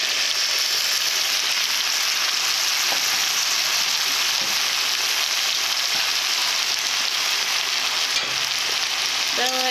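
Round-cut carrots frying in a curry pan, a steady loud sizzle with occasional stirring scrapes, close up, with a brief clink near the end.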